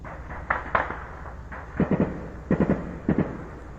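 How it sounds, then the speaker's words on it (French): Warning shots fired near a military camp at Place de la Nation in Ouagadougou during unrest, heard as distant sharp cracks in short bursts of two and three, spaced over a few seconds against steady background noise. "Et au même moment, les tirs de sommation"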